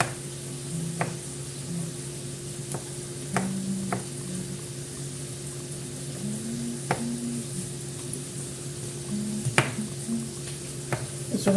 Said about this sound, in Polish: chcę sobie zrobić dzisiaj na śniadanie jajecznicę z pieczarkami